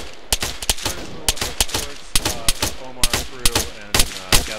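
Suppressive gunfire in Arma 3: short bursts of automatic shots, loud and close, repeating in a steady rhythm across the whole stretch with no talk.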